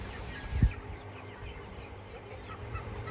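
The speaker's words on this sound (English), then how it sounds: "Here's that blue wheaten I was talking about, another young cockerel here." A young blue wheaten cockerel gives a few low clucks close by, followed by quieter background chirping.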